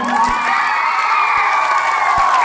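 Audience at a comedy show cheering and whooping loudly in a dense, continuous crowd roar, close and without speech.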